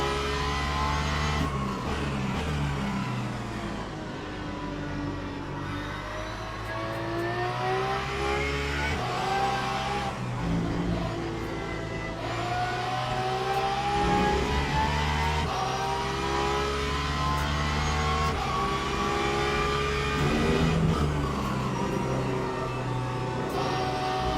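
A race car braking and running at Spa in a racing video game, its engine note loud and continuous with steady gear changes and pitch sweeps, alone and up close throughout.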